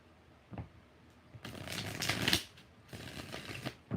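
Tarot cards being shuffled, a brief flick, then a longer riffling burst and a few more rustling shuffles, close and soft in a quiet room.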